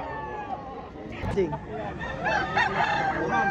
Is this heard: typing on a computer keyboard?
no